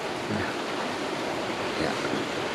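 Steady, broad outdoor wind rush, loud and constant throughout with gusty low rumble, during an outdoor meal of stewed beef large intestine; no talking.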